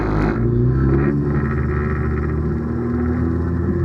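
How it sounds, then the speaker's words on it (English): A loud, throaty race car engine drones close by in low gear at low speed during a ChampCar race at Indianapolis, a rough continuous rumble with slight shifts in pitch. "When he's in low gears and barely moving like this, the car makes a lot more noise"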